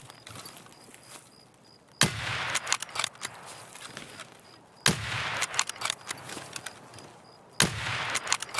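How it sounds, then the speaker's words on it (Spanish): Gunfire in the video game Escape From Tarkov: three loud, sudden bursts of shots roughly three seconds apart, each trailing off into scattered cracks, with a quieter background between them. "Le estoy errando todos los tiros"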